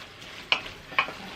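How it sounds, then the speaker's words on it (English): Ground cumin is stirred into a pot of chili, a soft sizzling bed broken by two sharp scraping strokes of the spoon. "I'm gonna stir this in to incorporate"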